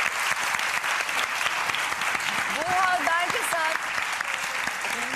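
Loud audience applause at a comedy show, dense continuous clapping throughout, with a voice speaking over it in the middle.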